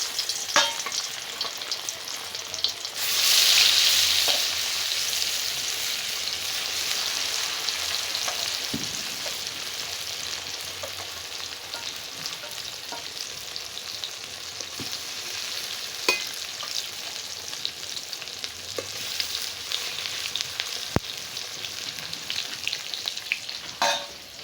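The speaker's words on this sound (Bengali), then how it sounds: "তেল গরম হয়ে গেছে, মাছ দিয়ে দিই।" Chital fish slices sizzle in hot oil in a village kitchen, a steady loud frying hiss lasting throughout with occasional crackles and pops, no voices.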